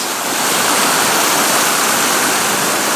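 A rushing waterfall and flowing stream roar as a loud, steady, broadband wash close by, continuous for the whole stretch with no voices.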